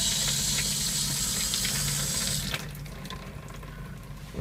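Hot water running from the sink faucet of a 2014 Jayco Flight Baja RV during winterization, a steady close hissing stream that stops about halfway through, leaving a quieter low hum and faint drips.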